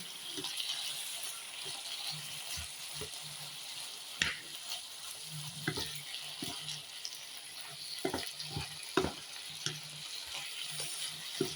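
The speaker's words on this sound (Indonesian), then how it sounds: "Kita aduk sampai rata" Rica-rica spice paste being stirred in a frying pan, a steady close sizzle broken by irregular scrapes and taps of the spoon against the pan, with no voices.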